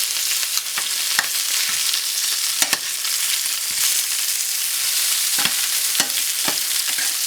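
Goat chops sizzle steadily in a hot pan, a continuous bright crackle and spit with scattered sharper pops and occasional stirring clicks, close by and with no speech.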